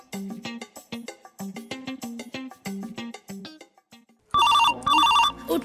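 A telephone rings loudly in two clear electronic bursts, coming in after a stretch of unrelated melodic sound with no talking.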